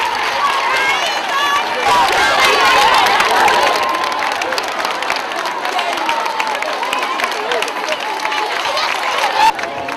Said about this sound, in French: C'est une foule d'enseignants et d'élèves qui a salué la venue du chef de l'État.